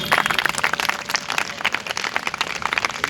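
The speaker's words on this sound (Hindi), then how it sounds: "नत्थू सरपंच सर के लिए एक जोरदार ताली" An audience at a women's self-reliance welfare committee event claps together for a village headman, dense, continuous applause rising and falling over a few seconds.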